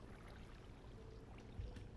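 Flowing water in Minecraft, a soft, steady trickling wash that runs faint and alone throughout.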